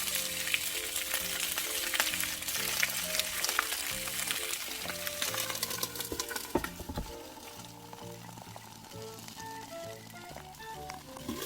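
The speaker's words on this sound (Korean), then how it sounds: "달구진 팬에 식용유 두르고 앞뒤로 지져주는데요" Steady, close sizzling and crackling of cabbage and meat dumplings frying in hot oil in a pan over medium heat, with occasional louder pops and scrapes, no voices.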